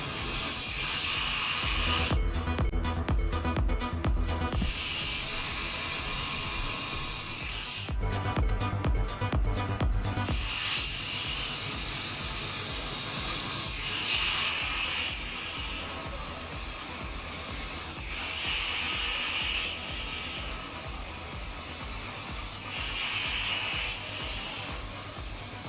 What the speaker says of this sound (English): they opened up a hole from 15 to 10 millimeter hole previously drilled